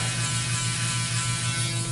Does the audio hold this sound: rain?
no